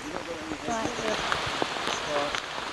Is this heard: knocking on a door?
no